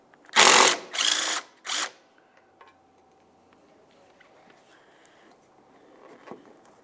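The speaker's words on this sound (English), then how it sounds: "Now we can remove our final 13mm headed bolt." Three loud bursts of a ratchet wrench backing out a 13mm bolt from the upper front door hinge of a 2005-2010 Dodge Dakota, followed by quiet handling noises.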